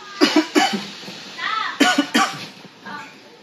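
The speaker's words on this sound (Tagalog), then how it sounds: "Oh, may ubo ka nga." Two pairs of sharp, close coughs from a child, separated by brief talking.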